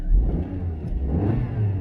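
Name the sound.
small 1 litre 3-cylinder petrol car engine revving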